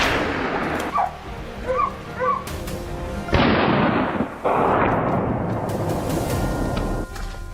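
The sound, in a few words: gunshot at a fleeing wild boar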